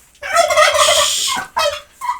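A domestic turkey gobbles loudly and close by in a long rattling call, followed by two shorter bursts, with no voices during the calls.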